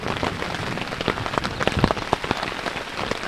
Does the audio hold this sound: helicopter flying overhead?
no